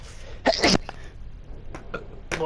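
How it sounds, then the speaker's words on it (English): A single sharp human sneeze bursts out loudly near the start, followed by a few quieter breathy sounds and muffled noises. "Bless you."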